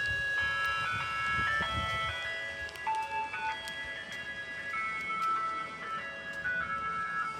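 An ice cream truck in Fresno, California, plays its chiming jingle, a steady electronic melody of bright tones carrying at moderate distance over low road rumble, continuous for several seconds.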